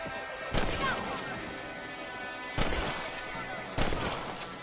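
In Red Dead Redemption, three rifle shots aimed at rabbits crack out at spaced intervals, each a sharp, loud report with a brief echoing tail, set against a steady hum of outdoor game ambience.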